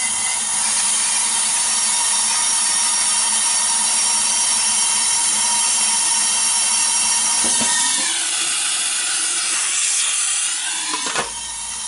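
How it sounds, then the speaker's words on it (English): An air compressor runs steadily throughout during a DIY diagnostic smoke test, a loud continuous hiss and hum with a brief dip and some clatter near the end. "I'm gonna turn the compressor on."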